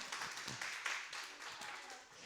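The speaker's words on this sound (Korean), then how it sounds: "백하은 박수 한번 주세요." A scattered round of clapping from a church youth-group congregation during a Sunday worship service, faint and brief, with uneven hand claps over a couple of seconds.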